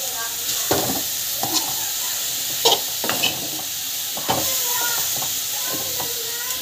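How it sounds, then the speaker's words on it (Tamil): Tomato, coriander, mint, asafoetida and salt being sautéed in a pan: a steady sizzle with repeated spatula scrapes and stirring strokes, close and moderately loud, with no talking. "ஸோ நல்லா வந்து வதக்கிட்டுக்கோங்க."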